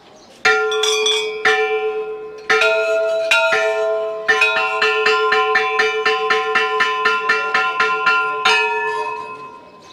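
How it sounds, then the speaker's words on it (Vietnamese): Temple bell rung at a temple in Nepal, with strong ringing strikes at first, then a fast, steady run of repeated clangs whose tones overlap and linger, close and loud, no talk. "kết thúc thì bác sẽ lay cái chuông."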